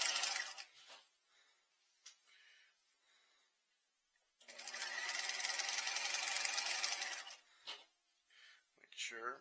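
A sewing machine stitches an inseam pocket seam in one sustained burst of rapid, close needle chatter lasting a few seconds, with brief shorter runs and a person talking before and after.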